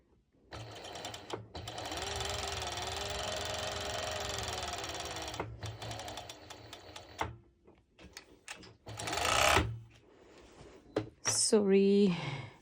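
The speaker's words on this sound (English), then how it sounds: "I'm going to go to my serger" A serger sewing machine stitches white fabric in a long steady whirring run, stops, and then gives shorter bursts, with a voice talking in between.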